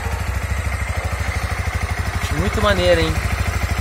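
A Master Ride 150 fuel-injected motorcycle idles close by with a steady, fast low thumping pulse, while someone speaks briefly over the engine.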